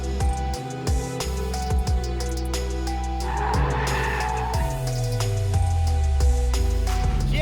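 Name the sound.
car drifting on skid pad, tires skidding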